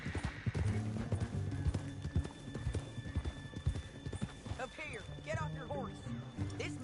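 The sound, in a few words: horse hooves clip-clopping in Red Dead video game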